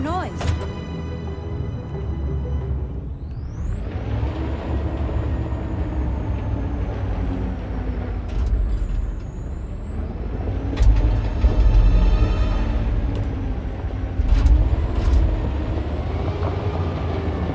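Heavy truck in the Detroit: Become Human video game, a low steady engine rumble with hissing air-brake bursts and shifting mechanical whine running throughout, loud and continuous, with game ambience and some voice underneath.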